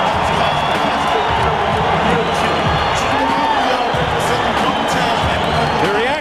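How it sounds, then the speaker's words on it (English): Large boxing arena crowd cheering and applauding as Mike Tyson makes his entrance, a dense continuous roar of voices, whoops and clapping at steady high volume throughout. "The reaction is mixed, but mostly applause and cheering."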